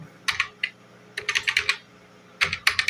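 Close, crisp keystrokes on a computer keyboard come in short bursts of quick taps separated by brief pauses, with no talking.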